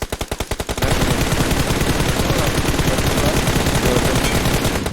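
Rapid automatic gunfire from a video game, starting with a few distinct spaced shots and then a loud, continuous stream of bursts that lasts to the end.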